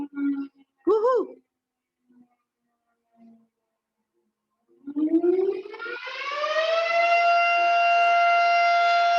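A siren winds up and holds a steady, loud wail for several seconds, after a few brief voice sounds and a short pause.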